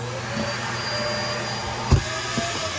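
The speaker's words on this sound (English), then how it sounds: "central vac right there." Central vacuum system running in a 2022 Cedar Creek 345IK fifth-wheel RV, a steady droning whine held for nearly three seconds with a short thump near the end.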